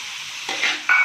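Capsicum and other vegetables are stir-fried on a high flame. A quick sizzle is broken by two short scraping stirs in the pan.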